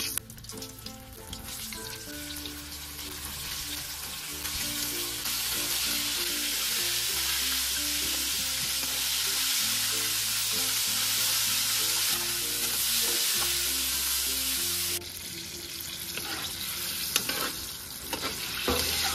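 Chicken feet deep-fry in very hot oil, a steady loud sizzle and crackle running throughout, with low tonal background music playing underneath and a brief shift in texture near the end.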